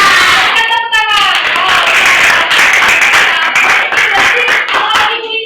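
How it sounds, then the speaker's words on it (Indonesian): A fourth-grade primary school class claps for a student who answered correctly, with energetic, slightly uneven hand clapping close by and children's voices chattering over it. "Berikan tepuk tangan."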